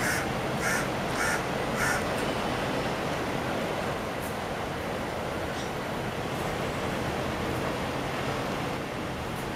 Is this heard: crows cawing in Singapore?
yes